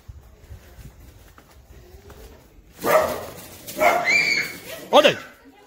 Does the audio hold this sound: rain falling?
no